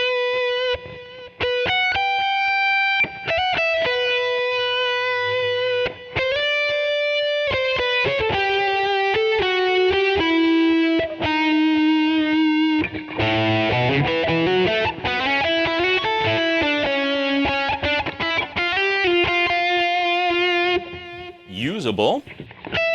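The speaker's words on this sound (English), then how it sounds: "This is a modern high gain sound with, I believe, some reverb and delay." A modern high-gain electric guitar tone through a Floor Pod Plus, drenched in reverb and delay, plays sustained distorted notes and fast melodic runs, loud and close, ending in a squealing pitch bend.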